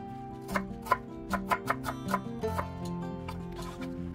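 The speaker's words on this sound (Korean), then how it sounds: "먼저 양파 반 개를 채 썰어주세요." Half an onion julienned with a knife on a cutting board, a quick series of crisp, close chopping taps in an irregular rhythm over faint background music.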